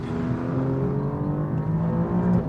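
A sports car's engine drones close by at a sustained rev, a rich harmonic note that rises slightly as it pulls, steady and fairly loud with no talk over it.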